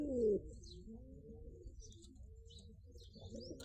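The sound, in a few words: pigeons cooing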